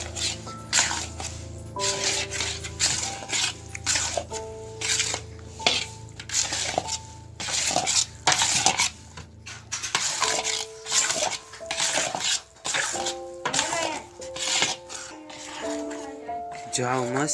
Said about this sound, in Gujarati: હવે આપણે હલાવશું અને મિક્સ કરી નાખશું